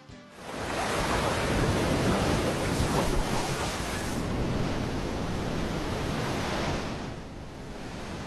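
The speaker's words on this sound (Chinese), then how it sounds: "海浪的声音" Sea waves breaking on the sandy beach at Beidaihe on the Chinese coast, a steady, loud wash of surf that roars on without a break and eases off slightly near the end, with no talking.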